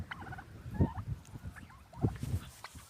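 Turkeys gobble and scuffle in a garden, with repeated rattling gobbles around the one- and two-second marks over a low, busy background of flapping and shuffling.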